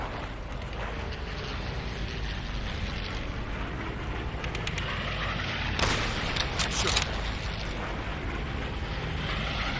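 Massed WWII bombers pass overhead in the Call of Duty: World at War video game, a dense, steady engine drone that swells slightly with a few sharp bursts partway through, with no talk.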